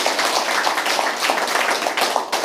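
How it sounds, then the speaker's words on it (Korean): A lecture audience claps together in a loud, continuous burst of applause, close and even, lasting a couple of seconds without any talking. "박수"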